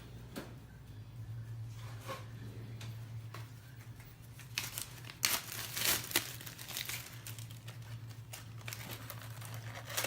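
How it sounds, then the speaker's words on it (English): A plastic Ziploc bag is handled close by, giving quiet intermittent crinkles and rustles with a few sharper crackling bursts over a low background hum. "let me grab a Ziploc bag"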